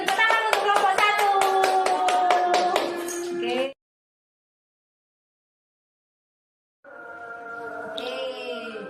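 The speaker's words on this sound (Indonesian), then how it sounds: "Tepuk tangan untuk kelompok 1." A primary-school class applauds a student group in a lesson on light, clapping in a quick, rhythmic beat with voices mixed in for about three seconds. A pause follows, and then a voice speaks.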